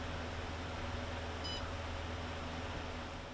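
A heat-treating oven's temperature alarm gives a single short, high electronic beep over a steady low hum of running equipment, close and faint, with no voices.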